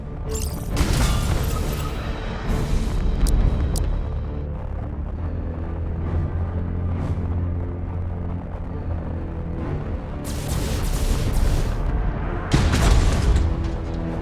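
Warship cannon fire from Battlefleet Gothic: Armada 2 in a Warhammer 40,000 space battle, heavy booming blasts and crashes rolling over a dense, continuous roar, loud throughout with bursts of extra impact near the start and end.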